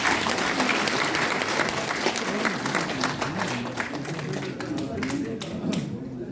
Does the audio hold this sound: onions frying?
no